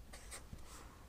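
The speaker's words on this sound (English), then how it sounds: "I'll write that down for people." Pen scratching out notes by hand on paper, a couple of quick faint strokes in a quiet room.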